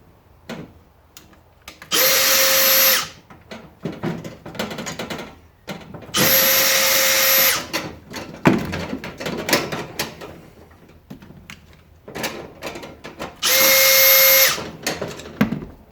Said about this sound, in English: I'll unscrew this bit of plastic and get that dead weight off there.